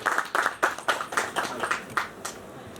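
A crowd claps and applauds steadily as someone is called on stage at a live event, with dense overlapping hand claps swelling in bursts and continuing throughout, fairly close and lively.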